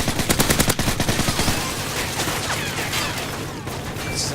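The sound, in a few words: gunfire from MP7 in Call of Duty MW3 video game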